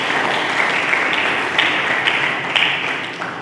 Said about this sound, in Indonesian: Berikan tepuk tangan dulu bagi Yesus.